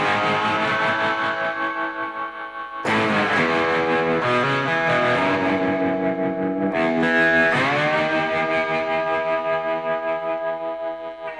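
Slide guitar played with tremolo, distortion, reverb and compression rings out in thick, sustained chords, pulsing with a wavering tremolo, with two sudden re-struck chords and sliding pitch changes, loud and alone with no talking.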